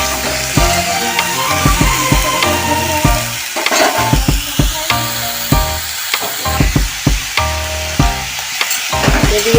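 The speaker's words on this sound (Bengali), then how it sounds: "এদিকে কাঁঠালটা একটু ভাজা হোক" Jackfruit frying in a pan gives a loud, continuous sizzle broken by frequent sharp clacks and scrapes of a spatula stirring, close and without voices.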